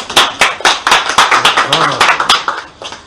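A church congregation claps rhythmically in a steady, fast beat, the sharp hand claps loud and close and continuing for about three seconds.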